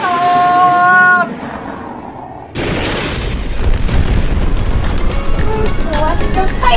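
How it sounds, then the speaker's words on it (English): A B2 Bomber 500-gram, 36-shot firework cake from Winda Fireworks goes off: a sharp boom cuts in partway through, followed by a dense run of crackling bursts and whistling tails, loud and fairly close. "We've got B2 Bomber from Winda Fireworks, 500 grams and 36 shots."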